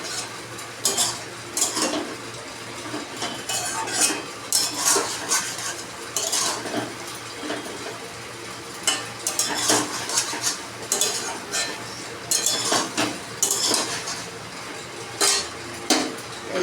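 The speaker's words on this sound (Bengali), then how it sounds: "এবারে এটাকে একটু নেড়ে চেড়ে" A spoon stirs sukto, a Bengali mixed-vegetable dish with raw milk added, in a pan, producing repeated scraping and clinking strokes in irregular bursts at close range with a steady low hum beneath and no talking.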